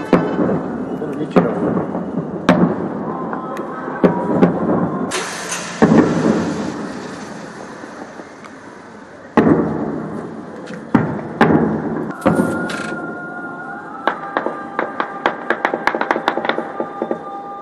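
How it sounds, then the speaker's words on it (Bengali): Explosions in Srinagar amid reported shelling sound as repeated heavy booms and thuds, some near and sharp, others distant and rumbling, spaced across the stretch with a cluster of rapid cracks toward the end. "বিস্ফোরণের শব্দ আপনারা শুনছেন শ্রীনগরে।"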